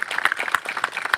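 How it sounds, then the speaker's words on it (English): Audience applause at a gun violence prevention awareness event, a short burst of dense clapping from a crowd. "let's give them another round of applause"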